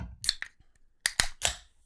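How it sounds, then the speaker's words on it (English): Two beer cans popped open, one after another: several sharp cracking clicks and short hissy bursts with brief gaps between them, close by and loud, with no talk. "That is the sound of me and Sam opening new beers"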